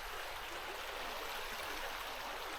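Creek water flowing along Pole Creek in Utah's Pahvant Mountains, a steady, continuous rushing babble heard close by with no other sounds or voices.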